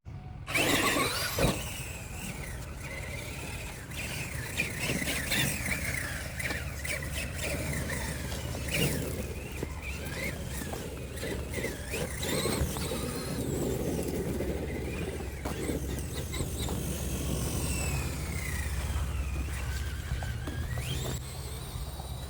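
A Traxxas Summit RC truck on new Duratrax Hatchet 3.8 tires drives through thick grass, its electric motor whining steadily and rising and falling in pitch with speed, with rattles and clicks over about twenty seconds and no voices.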